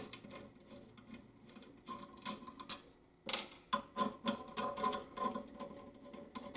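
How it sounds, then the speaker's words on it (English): Screws are run out of an assembly on an Atlas MFC milling machine, a quiet string of close mechanical clicks and ratcheting turns with one sharp metallic tick partway through. "There are 4 screws in here. Try to run them out a little faster."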